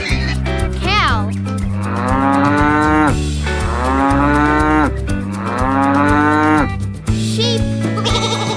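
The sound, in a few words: cow mooing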